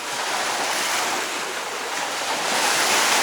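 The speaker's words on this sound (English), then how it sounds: "I hope these waves aren't causing too much of an issue with the sound" Ocean waves washing in at Lady Martins beach, Point Piper in Sydney, heard as a steady, dense roar of surf mixed with wind buffeting the microphone, loud and close throughout with no voices.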